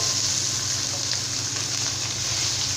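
Beans with grated carrot and cabbage sauté in oil in a pan for vegetable fried rice, giving a steady close frying hiss with a faint low rhythmic stirring underneath and no talking.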